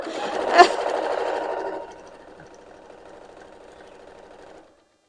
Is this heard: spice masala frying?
no